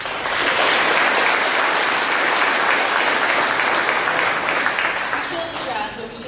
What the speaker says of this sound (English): if you would join us in a round of applause for each graduate